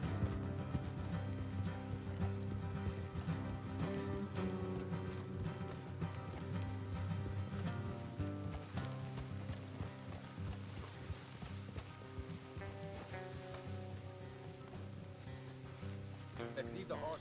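Horses' hooves clip-clop steadily along a road in a video game, a rhythmic trotting beat running beneath a loud musical score.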